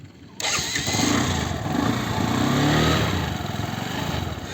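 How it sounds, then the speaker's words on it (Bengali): A motorcycle engine catches and starts, then settles into a loud, steady running rumble with slight revving variations, close by. "মোটর সাইকেলটা অন করে নিই এখন আমি স্টার্ট করে মোটর সাইকেলটা নিয়ে চলে যাব"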